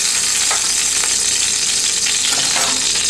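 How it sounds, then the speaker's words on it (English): Olive oil sizzles and crackles loudly and without a break in a hot pan before tofu goes in, close up. "put some olive oil in a hot pan"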